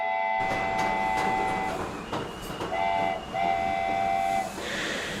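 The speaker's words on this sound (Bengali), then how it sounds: "ট্রেন ধীরে ধীরে ছুটে চলল।" Train running as a sound effect in an audio story, a steam whistle sounding in long tones over the rhythmic clatter and rumble of wheels on the rails, loud and close.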